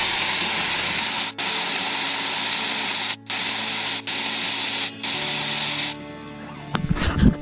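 Air hisses loudly out of a 4WD ute's tyre through a deflator collar, a close, steady rushing spray broken by a few brief pauses as the collar is popped, then tapering off toward the end.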